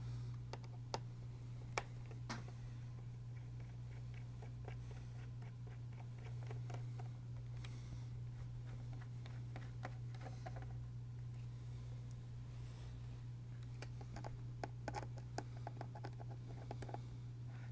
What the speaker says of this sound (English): Now that I got that screw out, it's picking right up, and it slides out.